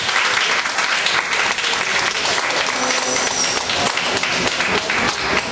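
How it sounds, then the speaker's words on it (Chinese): Sustained audience applause at a live singing event in Tawau, steady and loud throughout with dense overlapping claps and no voices over it. "我们给他掌声鼓励。"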